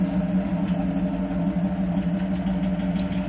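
A 1981 Jeep CJ-7 six-cylinder idles through its exhaust with lifter tap, a steady low rumble close by. Faint rapid ticking sits over the even engine drone, with no voices.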